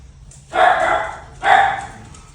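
A dog barks twice close by, each a loud, sustained bark-yelp separated by a short pause, with no talking.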